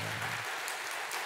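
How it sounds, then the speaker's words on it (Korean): A church congregation breaks into dense, vigorous applause, a short loud wash of clapping with no pauses. "힘차게 박수"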